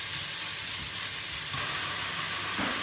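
Beef mince frying in a cooking pot, a steady broadband sizzle with faint stirring clatter underneath, holding even throughout and swelling slightly near the end.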